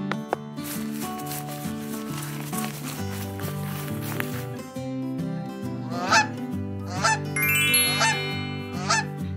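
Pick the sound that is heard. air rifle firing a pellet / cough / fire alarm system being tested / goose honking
goose honking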